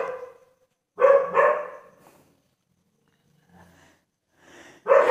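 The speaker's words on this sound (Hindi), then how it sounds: "ये जो आपको आवाज सुनाई दे रही होगी, कुत्ते भौंक रहे हैं" Dogs bark at night in a few short, loud bursts separated by silence, with a fainter bark in the distance between them.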